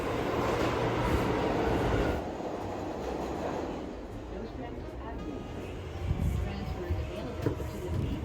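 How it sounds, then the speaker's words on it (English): A New York City subway train rumbles along with a steady rolling roar and clatter, louder at first then easing, with some scattered rattles; close and enveloping, no talk over it. "And here I am taking the train in order to get there"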